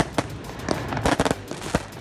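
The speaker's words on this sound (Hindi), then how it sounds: "तकरीब के इख्तिताम पर शानदार आतिशबाजी की गई" Fireworks at the closing ceremony of the Sindh Games in Karachi go off in a string of loud, sharp bangs and crackles at irregular intervals, some close together and some spaced apart.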